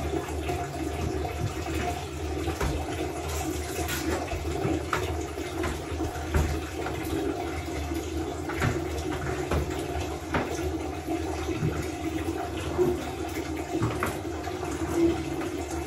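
Water runs steadily into a container for the whole stretch, a continuous close-up splashing with no pauses.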